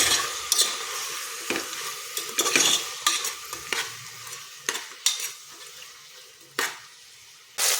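Mixed vegetables for khichdi sautéing in a pot, soft frying hiss punctuated by repeated clanks and scrapes of a spoon stirring against the metal.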